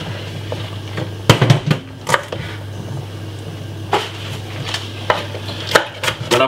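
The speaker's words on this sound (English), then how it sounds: "gonna cut up some spring onion, white onion." A knife chops spring onion and white onion on a board for Jamaican gungo rice and peas, striking in sharp, irregular close knocks and short bursts over a low steady kitchen hum.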